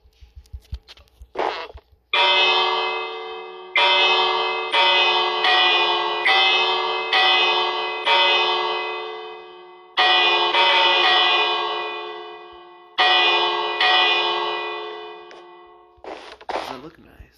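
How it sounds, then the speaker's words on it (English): A Minecraft bell rung again and again, bright metallic strikes repeating roughly once a second with clear ringing decay between hits, loud and close, with a few softer clicks at the start and end. "I will just ring the bell all the time"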